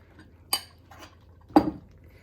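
Herb dumpling dough spooned into a pot of vegetarian stew, with two separate metallic clinks of a spoon against the pot spaced about a second apart, close and otherwise quiet.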